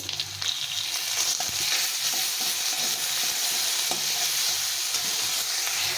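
Turmeric and a ground ginger, cumin and chilli paste sizzle steadily in hot oil while being stirred for a mixed vegetable curry, with close scraping strokes over the constant frying hiss and no talking.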